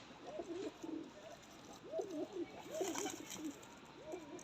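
Pigeons coo softly in repeated low, throaty phrases against a faint hiss of outdoor background noise.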